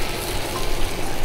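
Pork stir-frying in a pan with mentsuyu sauce just poured in, a steady dense sizzle running close and even throughout.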